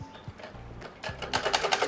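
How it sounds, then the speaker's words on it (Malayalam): A sewing machine winds thread for a sari onto a bobbin: a few soft mechanical clicks at first, then a fast, rhythmic whirring rattle builds and runs close and loud. "നമുക്ക് ആദ്യമേ തന്നെ നമ്മുടെ സാരിക്ക് ആവശ്യമുള്ള നൂല് ബോബിനിൽ ചുറ്റാം"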